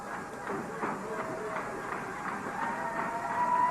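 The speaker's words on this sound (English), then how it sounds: "you can hear the crowd in the background." Crowd murmur from an old-school UWF wrestling event fills the background at moderate level, a broad steady rumble of many voices that swells slightly toward the end, with a voice talking faintly through it.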